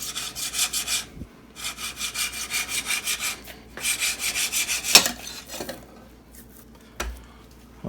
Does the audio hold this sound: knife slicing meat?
yes